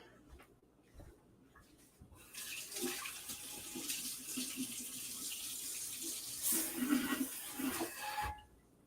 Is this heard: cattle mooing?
no